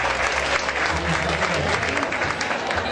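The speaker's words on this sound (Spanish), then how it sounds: "Fuerte aplauso, Claudio" Steady, dense applause from an audience at an Elvis impersonator contest, continuous clapping at full strength throughout with a faint crowd murmur underneath.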